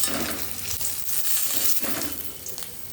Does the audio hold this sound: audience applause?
no